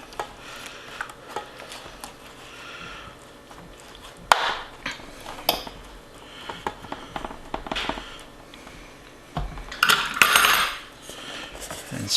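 Rhubarb spread into a 9 by 13 baking dish with a utensil, scattered clinks and taps of metal on the dish, soft scraping between them, close and irregular.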